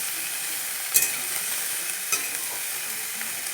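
Vegetables fry with panch phoron in a pan, giving a steady high sizzle with a couple of brief stirring scrapes, close and continuous without talk.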